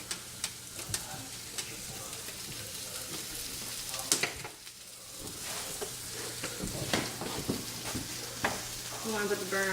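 Butter sizzling and frying in a pan on high heat while sauteing for a gourmet fish chowder, with stirring scrapes and a steady crackle throughout, close and moderately loud.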